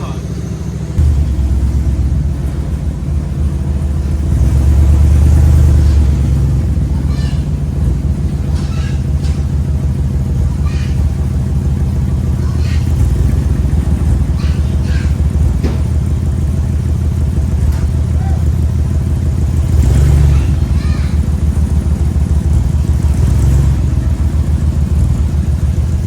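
An old truck's engine runs steadily with a deep low rumble, swelling in a couple of revs around the middle and near the end, close and loud throughout.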